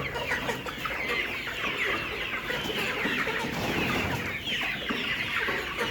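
Layer hens cluck steadily in a poultry house, a dense chorus of many birds heard together, continuous and fairly loud with no talk over it.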